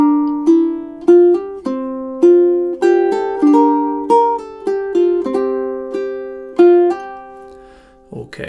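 A ukulele picks measures 7 to 10 of a song from Spirited Away: clear, close plucked notes in a steady, lilting melody, each ringing briefly, ending with a soft thump.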